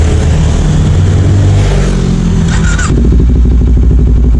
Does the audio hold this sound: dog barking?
no